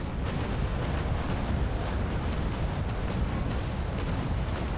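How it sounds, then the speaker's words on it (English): A wooden sailing frigate's cannons fire a broadside in the naval battle game Naval Action, heard as a continuous rumbling roar of overlapping booms that stays heavy and loud throughout, with no voices. "here is the full broadside up his stern"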